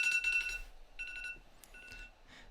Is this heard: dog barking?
no